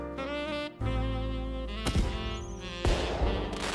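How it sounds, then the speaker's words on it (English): New Year's Eve fireworks go off with a few sharp booms against a thick, sustained musical background. The bangs sound muffled and sit partly under the music. "those fireworks are pretty annoying."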